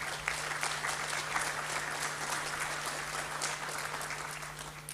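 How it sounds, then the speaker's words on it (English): Conference audience applause at an opening session, a sustained, even roar of many hands clapping together, heard from a distance over a constant low electrical hum. "there's always a however after a big round of applause"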